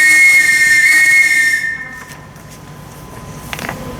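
A shrill whistle blown by a ship's captain at home to summon the household servants, piercing and sustained for about a second and a half, then fading to quiet room noise with faint rustling.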